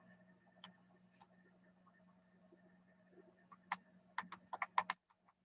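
Faint, sparse clicks of typing on a computer keyboard, a few isolated keystrokes at first, then a quicker cluster of taps near the end, heard close in an otherwise quiet room with no voices.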